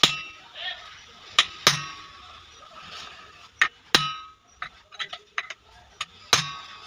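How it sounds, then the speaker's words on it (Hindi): A hammer strikes a chisel resting on the inner bearing collar of a sewing machine, giving sharp metallic clangs at irregular intervals, several close together. Between the hits there is quiet background hum. "कोई छेनी ले लेना है और उधरी बेरिंग के अंदर वाले जो कॉलर है उस पर रख के हम से चोट मारते जाएंगे"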